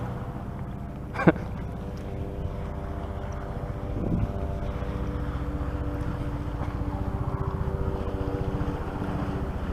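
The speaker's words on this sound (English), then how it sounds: "There's a helicopter." A helicopter flying overhead drones steadily with a low, rhythmic rotor chop, holding at moderate loudness throughout with no voices.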